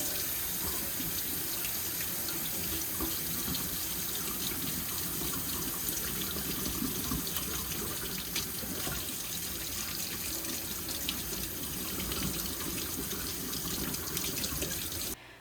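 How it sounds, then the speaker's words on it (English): Water runs steadily from a tap into a sink while etched glassware is rinsed, a continuous close splashing rush with no talk, cutting off abruptly at the end. "So I'm just going to turn the water on."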